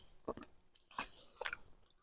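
Close, quiet crunching of a firm Muscat grape berry being bitten and chewed, with three or four short crisp bursts over about two seconds.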